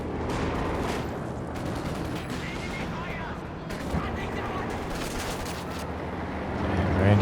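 Dense tank battle gunfire from Company of Heroes 2, with T-34s trading shots against a Panzer IV in a 3v3 match, a continuous loud rumble of cannon and small-arms fire with a few sharper bursts and no break in the din.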